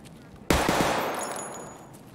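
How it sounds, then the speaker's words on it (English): A single sharp 9mm gunshot fires in the video game Escape from Tarkov, loud and close, with a sharp attack and a ringing tail that fades over about a second and a half. "so we're just gonna have to shoot this guy with 9mm."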